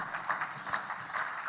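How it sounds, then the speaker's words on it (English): Brief patter of applause from an audience at an honors celebration event, soft and fairly distant, a short run of scattered clapping. "let's applause for Elizabeth"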